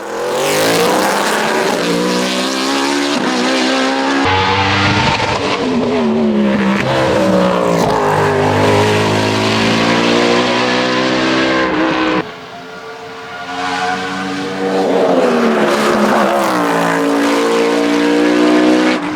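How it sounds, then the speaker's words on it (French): A BMW race car engine screams close by on a hill climb course, revving hard through rising gear changes with brief tire squeal, pausing for a shift before roaring up again. "ignan a retrouvé depuis toute sa combativité au volant de sa BMW et signe 3 des meilleurs chronos sur les 4 montées de course"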